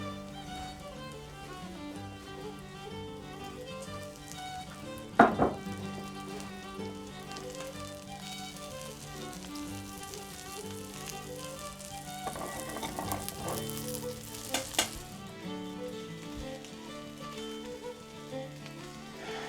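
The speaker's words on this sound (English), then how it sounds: "We can take our chopped nettles now and put it right into our browning onions." Chopped stinging nettles fry in a pan with browning onions, a steady soft sizzle throughout with occasional louder stirring scrapes and clunks, 18th-century style cooking, no talking.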